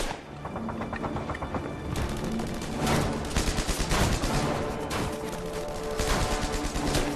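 Battle-scene gunfire near a forest on the German border in December 1944, dense overlapping bursts of rifle and machine-gun fire with heavy thumps and booms, continuous and loud throughout.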